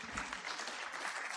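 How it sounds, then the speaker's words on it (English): A conference audience at a 2022 partnering event in New Delhi applauds a professor, giving a brief burst of dense, steady clapping. "Can we have a huge round of applause for Professor?"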